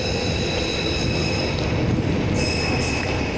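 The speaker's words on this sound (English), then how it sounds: "This is our train to North Shield, where I'm going to be concluding. I will film the departure." A Tyne and Wear Metro train pulls away from Tynemouth station, a steady, continuous rumble of wheels and rolling stock close by with a faint high whine above it, no voices.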